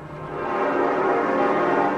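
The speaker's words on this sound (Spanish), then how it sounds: "Las campanas de la iglesia memorial del Kaiser Guillermo anunciaban hoy misa" The church bells of the Kaiser Wilhelm Memorial Church in Berlin ring together for mass in a dense, continuous wash of overlapping tones, steady and fairly loud.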